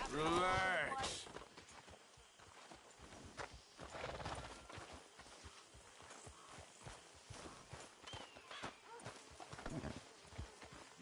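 Hooves clip-clop steadily in Red Dead Redemption 2, with a whinny at the start and faint voices beneath the rhythmic hoofbeats.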